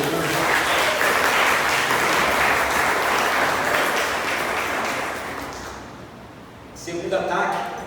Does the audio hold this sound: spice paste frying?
no